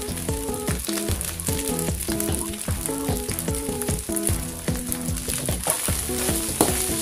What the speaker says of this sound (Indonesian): Kita masukkan kecapnya ya.